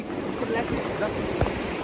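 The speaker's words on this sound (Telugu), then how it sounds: "విండ్ చాలా వస్తుంది. జస్ట్ చిన్న మైక్ పెట్టుకున్నా అంతే." Strong wind at Sandunes beach in Pondicherry buffets a small microphone, producing a continuous rough, low rumble and hiss with occasional louder gusts; surf may be faintly mixed in.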